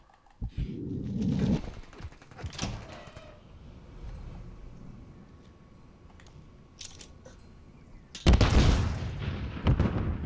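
Gunfire in Modern Warfare III, with a few loud bursts at the start, scattered shots in the middle and a heavy close burst of shooting near the end, with no talking.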